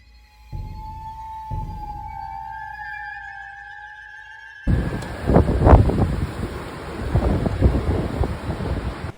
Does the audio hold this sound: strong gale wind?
yes